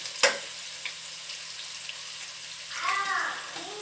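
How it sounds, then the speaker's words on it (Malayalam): Chopped onions sautéing in oil in a pan for Thalassery-style chicken dum biryani: a sharp clink, then a quiet steady sizzle and a brief stirring scrape near the end. "ബാക്കിയുള്ള സവാള കൂടി നമുക്കിതിൽ ഒന്ന് വഴറ്റിയെടുക്കാം"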